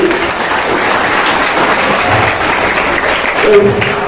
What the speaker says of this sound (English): So children, all we will give the big clap to everybody, even Jagruti